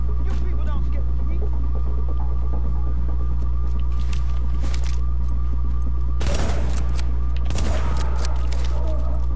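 Gunfire in the video game Tom Clancy's The Division, scattered bursts of rapid shots over a loud steady electrical hum, with two denser volleys toward the end.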